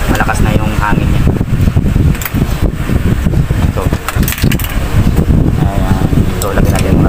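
Loud, steady whooshing airflow from a Eureka electric stand fan that won't oscillate runs throughout, with a brief spoken word partly over it.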